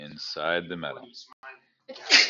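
Someone speaks briefly during an AP Physics class, pauses, then lets out a single sharp, loud sneeze at the end.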